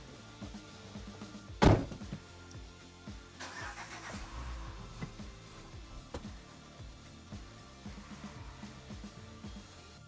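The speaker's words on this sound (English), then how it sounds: "So here we are on the hopefully final test drive of the Citroen Xsara Picasso" A Citroen Xsara Picasso on a road test: a sharp thunk early on, then the engine hums and pulls at a low, steady level from inside the car, with no talk.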